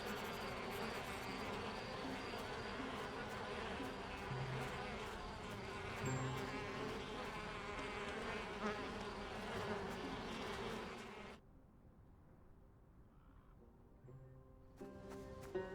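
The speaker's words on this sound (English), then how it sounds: "I need something to lure the bees away." Bees buzz in the video game Elroy and the Aliens, a steady loud insect drone over busy game music and effects that cuts out suddenly near the end, leaving quiet bleeps.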